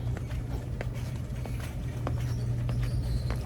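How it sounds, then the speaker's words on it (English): Steady rain hisses without a break, with scattered drops tapping sharply over a constant low rumble. "See, it's raining."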